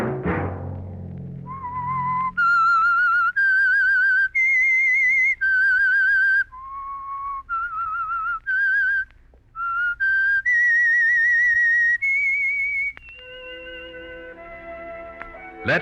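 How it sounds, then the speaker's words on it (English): A whistled signal tune for a 1946 radio program: a clear, loud melody of sustained notes with small gaps, heard alone after a fading low chord, ending with a brief orchestral sting. "Let that whistle be your signal for the Signal Oil program, The Whistler"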